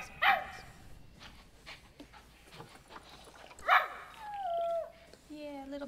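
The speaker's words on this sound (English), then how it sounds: "Oh, look at that puppy." A puppy in the Planet Zoo video game gives a few short howling and yipping calls, rising then falling, under background game ambience with speech nearby.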